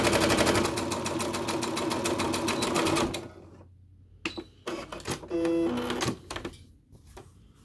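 A sewing machine stitches a tight curved seam at a short 1.4 mm stitch length, first in a loud, steady whirring run, then in short stop-start bursts as the fabric is pivoted.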